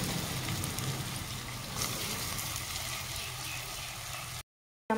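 Coconut biscuit pitha, a Bengali fried snack, deep-fries in oil with a dense, even, rain-like crackling hiss that holds steady for several seconds and then cuts off briefly near the end.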